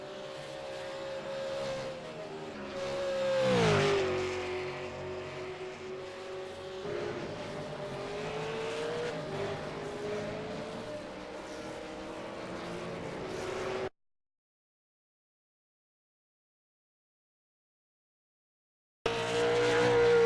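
Race car engine in a sim racing game at Bathurst, droning steadily with a falling pitch sweep as it slows toward pit lane, then a stretch of silence before the engine returns.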